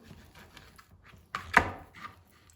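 A knife slices chicken lengthwise on a board: faint scraping strokes, then one louder close cut with a brief scrape after it.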